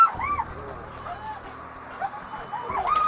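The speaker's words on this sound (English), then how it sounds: "You're gonna get bit by the dog." A police K-9 dog yips and whimpers in high, urgent bursts during a stop, close by, with a low engine rumble and brief voices around it.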